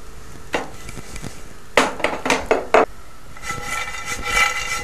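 Cubed toast-bread croutons are fried in a hot pan, with a few sharp clattering bursts of stirring and tossing over a faint background sizzle, close and without speech.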